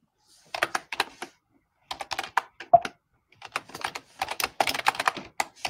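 Someone types on a computer keyboard with crisp, close key clicks that come in irregular bursts separated by short pauses, and no voices are heard.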